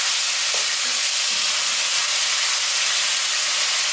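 Beef stirred into dark amber caramelized sugar sizzles loudly in a pot for a Caribbean stewed beef, a dense, steady hiss of frying that fills the whole moment with no talking.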